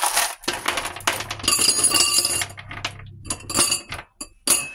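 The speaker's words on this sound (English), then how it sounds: "Come on, ice cubes. Don't be so stubborn." Ice cubes clatter and clink into a glass at home in several bright, close bursts with short pauses between them, and no one speaks.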